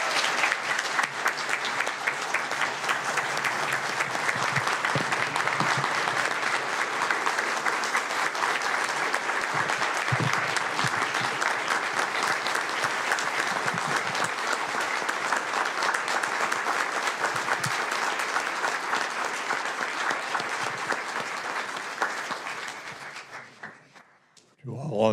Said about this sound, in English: If we could give a big round of applause, everyone.